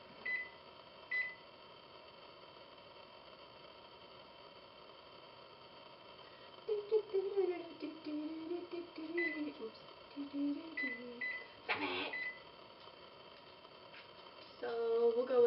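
Kitchen oven timer being set, giving a few short electronic beeps spaced apart, with a quiet voice talking in the background and a steady low hum underneath.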